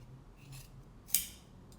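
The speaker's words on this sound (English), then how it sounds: "So just cut along those lines that you made" Scissors snip through four layers of fabric for a circular skirt, a single close, crisp cut after a brief lighter rustle.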